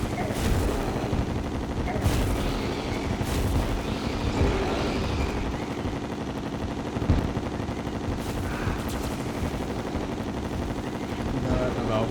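Rapid chlorophyte bullet gunfire in Terraria during the Moon Lord fight: a dense, continuous stream of game shots under a voice talking.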